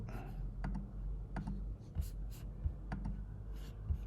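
Faint, sharp clicks from a computer mouse come in a loose, irregular series, quiet and close, over a low background hum.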